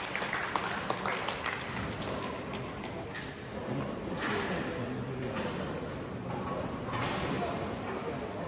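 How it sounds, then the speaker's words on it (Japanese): Steady crowd applause and cheering at the Kato P World Cup final and awards ceremony, continuous throughout, with someone speaking over it. "大きな声援ありがとうございます。"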